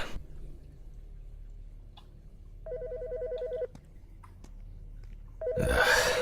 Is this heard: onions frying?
no